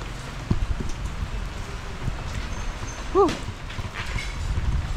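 Heavy rain pours outdoors as a steady, dense hiss throughout, with a brief voice-like cry rising out of it midway.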